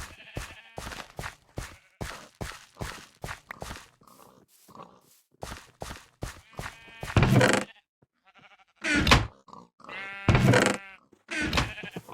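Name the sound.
sheep bleating in Minecraft video game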